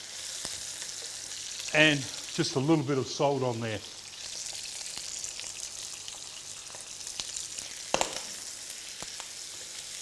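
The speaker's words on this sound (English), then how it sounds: "seal off one side first, keep it sizzling on number 10," Pork ribs sizzle in a frying pan on high heat, splattering steadily with a dense crackle that runs the whole time, while a person talks briefly over it.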